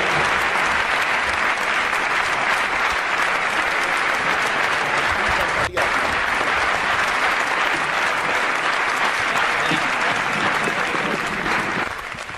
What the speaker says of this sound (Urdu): زوردار تالیوں سے استقبال کریں